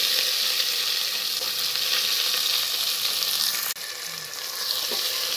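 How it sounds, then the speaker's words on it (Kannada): Two chopped onions frying in a pan for a Hyderabadi green biryani give off a loud, continuous close sizzle, broken once by a brief clatter of stirring before the hiss settles back; no one speaks. "ಈಗ ಹೆಚ್ಕೊಂಡಿದ್ದು ಆನಿಯನ್ ಆ್ಯಡ್ ಮಾಡ್ತಾಯಿದ್ದೀನಿ"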